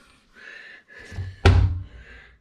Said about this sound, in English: self-closing cabinet